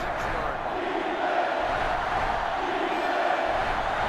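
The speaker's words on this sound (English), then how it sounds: "This sellout crowd is really making a difference now as these guys can't even call the play." A sellout stadium crowd in the college football video game NCAA Football 2005 roars steadily, a broad, continuous wash of cheering that swells slightly partway through.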